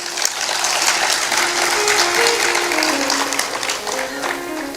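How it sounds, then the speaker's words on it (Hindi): Audience applause at a Kumbh Mela gathering, a dense steady crowd clapping that holds evenly for several seconds with no talk over it. "उनके लिए एक बार ताली जरूर बजाएं"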